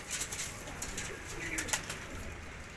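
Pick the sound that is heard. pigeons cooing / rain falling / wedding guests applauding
pigeons cooing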